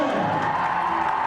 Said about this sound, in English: The crowd are roaring and ready for their teams.